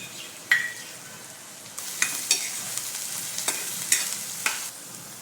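Onions salted as they fry in a pan, a soft background sizzle broken by several sharp scrapes and clinks as a utensil stirs them, close and clear with no talking.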